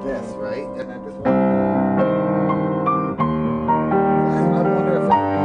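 Soprano saxophone playing a melodic line of held and shifting notes, full and upfront, with accompaniment underneath and no talking.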